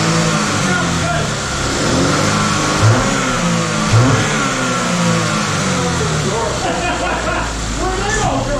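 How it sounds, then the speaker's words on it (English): 2012 Chevrolet Equinox engine after a jumped-timing repair, idling loudly nearby, then revved up a couple of times in rising swells before settling back, with people talking over it. "Rev her up a couple of times."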